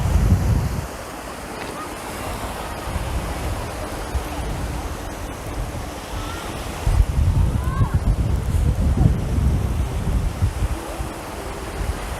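Calm ocean waves wash onto the fine-sand beach at Hua Hin beside the Hilton resort, a soft steady surf hiss with gentle swells and some wind noise on the microphone.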